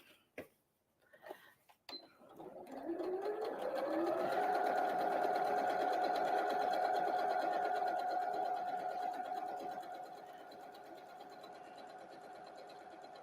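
Sewing machine stitching curved seams on Christmas tree napkins, a few handling clicks, then the motor revs up into a steady close whirring hum that holds for several seconds before slowing and easing off.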